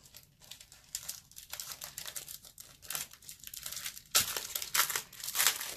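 Plastic packaging around a new embossing folder being unwrapped up close, with steady crinkling and tearing that grows louder and busier near the end; no talking.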